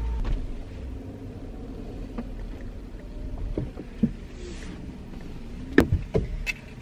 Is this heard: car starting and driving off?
yes